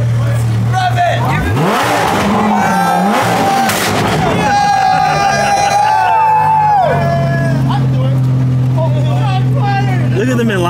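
A Lamborghini engine revs loudly in a few sharp bursts, snarling up and falling back, with people talking and shouting nearby throughout.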